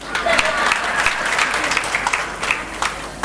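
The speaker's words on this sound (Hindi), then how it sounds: "एक ने ताली बजाई" Audience clapping at a spiritual discourse, scattered, uneven claps rising and falling in a loose rhythm over a steady low room hum, fairly close and moderately loud.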